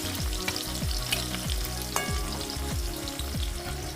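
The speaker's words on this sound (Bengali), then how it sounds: "তাই প্রথমে আমি আলুটা ভেজে নিচ্ছি তারপরে সয়াবিনটা ভাজবো" Potatoes frying in hot oil for a soybean dish, a steady loud sizzle and crackle that runs throughout with repeated scraping stirs.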